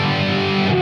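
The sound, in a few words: distorted electric guitar through amp model on Fender Tone Master Pro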